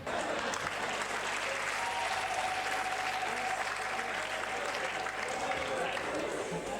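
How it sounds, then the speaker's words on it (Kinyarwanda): Audience applause fills a comedy show, steady dense clapping from a crowd sustained throughout, fairly distant with a faint voice mixed in. "So nagira ngo munkomere amashyi."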